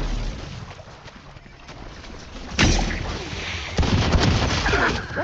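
A thrown charge detonating like a bomb during a Valorant match, a sharp heavy boom followed by a second blast amid ongoing gunfire and game effects, with faint voices underneath.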